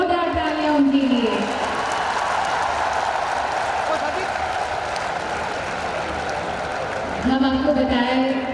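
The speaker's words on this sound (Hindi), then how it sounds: "एक बार जोरदार तालियां उनके लिए" Outdoor rally crowd giving loud, sustained applause for the Prime Minister, dense clapping that swells and holds for several seconds, with a voice over it at the start and end.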